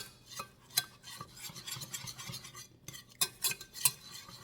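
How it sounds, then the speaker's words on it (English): A whisk beats flour in a pan to begin gravy for roast beef, making quick, close, rhythmic metallic clinks and scrapes with small pauses between bursts. "I'm just going to whisk it."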